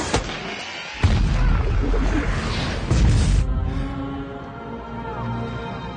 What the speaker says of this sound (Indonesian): akibat terkena ledakan dari bubuk hitam